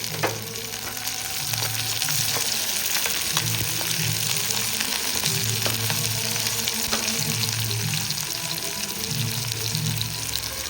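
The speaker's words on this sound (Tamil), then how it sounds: "நறுக்கி வச்ச வெங்காயத்தை கொஞ்சம் சேர்த்துக்கலாம்" Continuous crackling sizzle of chopped onions frying in hot oil, close and steady, with occasional stirring scrapes and no speech.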